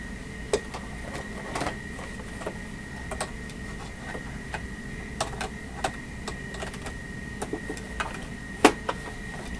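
An embroidery machine sews a satin stitch along a bag edge, giving a steady mechanical hum with rapid ticking and occasional sharper clicks, close and moderate in level.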